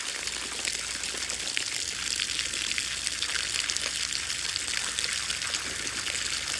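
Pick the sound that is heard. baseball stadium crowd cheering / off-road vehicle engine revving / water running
water running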